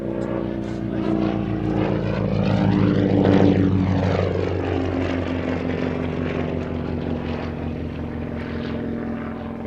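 A Percival Provost propeller trainer passes close and loud, its piston engine drone rising to a peak with a sweeping Doppler shift as it goes by, then fading steadily but remaining strong.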